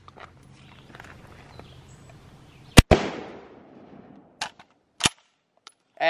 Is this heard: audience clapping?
no